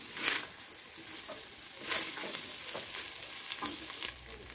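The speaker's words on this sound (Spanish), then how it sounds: "Y lo vamos a sofreír." Onion, garlic and chili strips sauté softly in a pan, a quiet, close sizzle marked by three brief bursts of stirring scrapes spaced a second or so apart.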